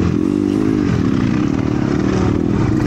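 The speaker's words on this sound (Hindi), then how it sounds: "ये देखो बाइक देखो KTM ड्यूक आ रही" A KTM Duke motorcycle passes by on a road, its engine a loud, steady, close drone with a slight pitch shift as it goes past, no voices.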